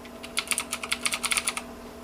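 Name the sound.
typing on Razer BlackWidow Ultimate mechanical keyboard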